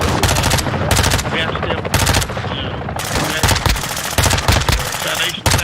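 Rapid, loud bursts of automatic gunfire in a Modern Warfare 2 DMZ match, with repeated volleys and short gaps throughout and faint voices underneath.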